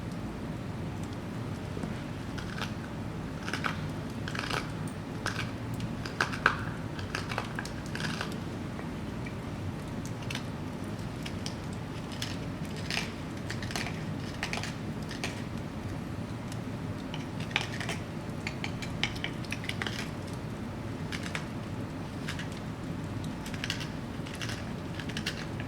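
A knife carves the bowl of a wooden spoon in steady, quiet scraping strokes, with faint irregular clicks and shaves repeating over a low, even background.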